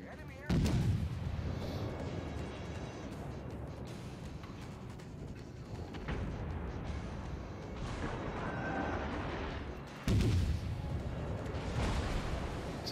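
Naval gunfire in World of Warships, with heavy booming cannon salvos from ships and cruisers rolling out over a continuous low rumble of battle, loud and close, with a brief voice in between.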